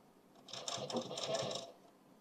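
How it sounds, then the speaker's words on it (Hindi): A sewing machine stitches a suit sleeve, a quick burst of rapid mechanical clatter lasting about a second, close and fairly quiet, starting and stopping abruptly. "तो जैसे जैसे शेप घुमा हुआ है वैसे वैसे सिलाई चलाते जाना है जोड़ते हुए"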